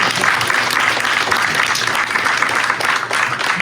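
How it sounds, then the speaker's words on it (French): Audience applause at a book launch event, a steady, dense clapping from a room full of people, loud and sustained without pause for the whole stretch. "je vous invite à nous applaudir"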